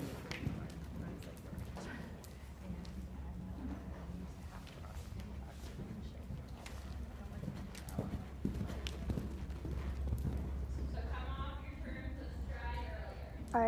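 Hooves of a ridden horse at a canter beat in a steady rhythmic clip-clop, moderately close, with a voice talking over part of it.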